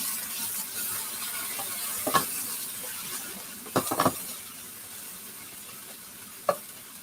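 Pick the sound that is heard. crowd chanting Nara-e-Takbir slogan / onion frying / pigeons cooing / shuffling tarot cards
onion frying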